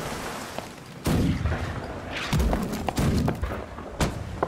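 Ship cannons fire in the Holdfast naval battle game, several heavy booming thuds spaced about a second apart over rumbling background noise.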